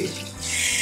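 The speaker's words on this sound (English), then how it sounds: "So you're going to wash out this foam" Running water rinsing shampoo foam out of natural hair, a brief close rushing splash of flowing water, steady and fairly loud.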